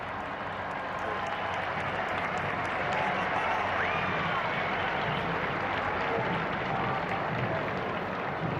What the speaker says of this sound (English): Let's just listen to the cheers of the crowd for a moment.